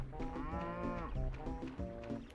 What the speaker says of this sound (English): Oh god, there's a bull there.